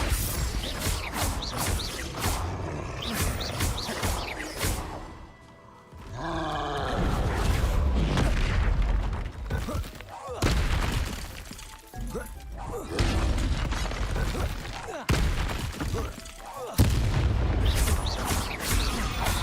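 Confringo explosive spell blasts in the Hogwarts Legacy video game, a run of loud booming crashes and impacts in dense game combat, with a brief lull before another burst of blasts.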